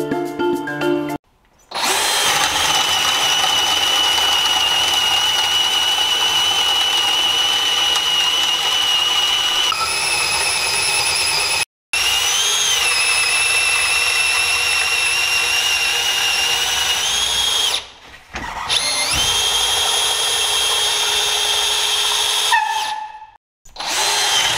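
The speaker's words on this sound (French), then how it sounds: "maintenant qu'on a fait les essais de perçage" Cordless TPC 18/4 impact drill-driver set to drilling mode, running in several sustained loud whirring bursts separated by brief pauses, with a steady high motor whine that shifts pitch slightly between runs.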